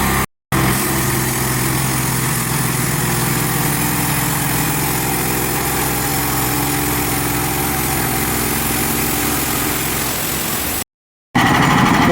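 A Hud-son Patriot sawmill cutting through a small log, its engine droning loud and steady throughout as the blade runs through the wood, broken only by two brief gaps at the start and end.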